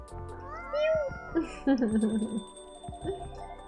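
A cat meowing in a video game, a few drawn-out, wavering meows close up, with a person talking over part of it.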